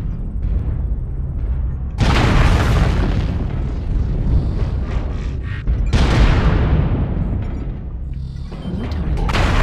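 Heavy booming artillery strike explosions in the BattleTech game, loud and rumbling, with two big blasts roughly four seconds apart and a third starting near the end over continuous low battle noise.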